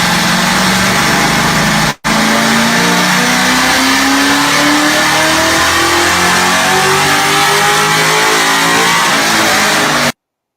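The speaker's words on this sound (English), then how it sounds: "That's Roy's car on the dyno" A Ford Cobra engine revs hard on a dyno at Kenny Brown Performance, a loud, close, continuous run climbing steadily in pitch through the gears after a brief cut, with no talk.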